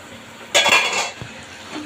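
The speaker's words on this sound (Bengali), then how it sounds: "চলুন ঢাকনা খুলে দেখি কেমন হয়েছে" A lid comes off a pan of simmering hilsa fish do-pyaza with one loud metallic clatter and a brief rush of hissing, then a small clink before a quiet return.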